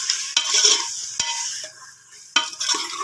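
Chicken gizzards fry in ghee with a bright, steady sizzle, broken by a few spoon scrapes and stirs against the pan, close up and with no speech.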